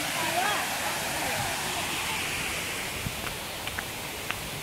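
A flowing mountain stream rushes in a steady, close, broadband wash that never lets up, with a brief voice near the start and a few faint clicks later on.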